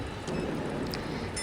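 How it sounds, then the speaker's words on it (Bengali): Heavy rain pours down in a steady, dense hiss that fills the whole moment without a break, close and even, with no voices. "কি বৃষ্টি হচ্ছে, কিভাবে যে যাব?"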